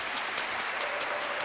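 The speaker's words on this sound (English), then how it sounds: "So can we give her a round of applause?" A meeting audience gives a dense, steady round of applause, many hands clapping together close by and filling the whole moment without pause.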